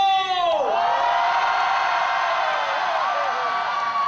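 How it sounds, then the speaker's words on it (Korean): A large crowd of citizens at a democracy commemoration rally roars in a sustained, loud cheer, with whoops and high shouts rising over a dense wall of voices that holds steady for several seconds. "우리 온 시민들이 민주의 함성을 다시 한번 크게 한번 질러볼게요"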